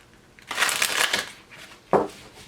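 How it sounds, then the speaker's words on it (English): Tarot cards get a quick riffle shuffle close up, a crisp burst of flapping card noise lasting about a second, followed by a short second riffle, with no talk over it. "One more shuffle"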